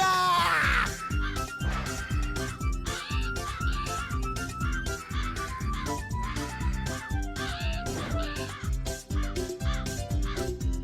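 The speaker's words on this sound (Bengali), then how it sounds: "এই কাকগুলো" Cartoon crows caw again and again in a busy, layered soundtrack, the harsh calls repeating loudly throughout.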